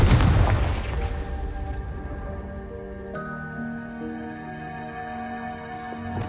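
A Confringo spell explodes in Hogwarts Legacy, a loud booming blast that rolls into a fading rumble layered with sustained musical tones, no speech.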